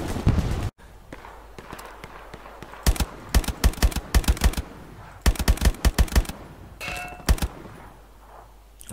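Sharp metallic impacts of bullets striking enemy soldiers' helmets in a shooter video game, arriving in quick clustered bursts of loud cracks with gaps between volleys, plus a brief ringing ping near the end.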